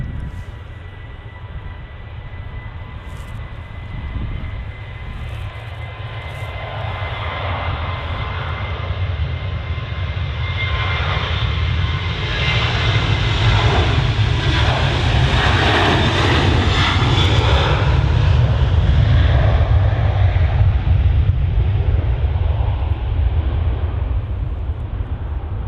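A departing airliner roars at Manchester Airport, its loud, steady jet engine rumble building and swelling over about twenty-five seconds with no talk.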